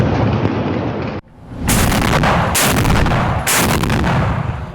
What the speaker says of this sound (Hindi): धमाके भी सुनाई दिए।